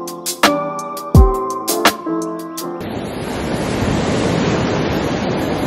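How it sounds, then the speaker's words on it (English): Beach surf rushing in as a broad continuous wash, loud and close with wind buffeting the microphone, preceded by a few seconds of ringing musical tones and knocks. "I'm on the beach."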